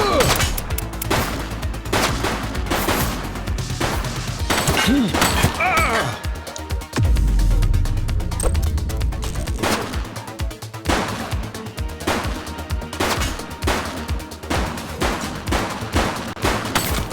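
Gunfire from a shooting suspect in the police game Precinct, rapid loud shots in repeated bursts with crashing impacts, under voices calling out.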